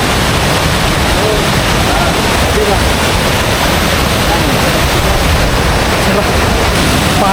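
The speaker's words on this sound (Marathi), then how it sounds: "पाण्याचा आवाज बघून तुम्हाला समजायचं की पाण्याचा प्रेशर काय असतो" A monsoon waterfall near Khopoli roars with rushing water, a dense, loud, unbroken wash of noise that stays constant throughout and fills the whole scene.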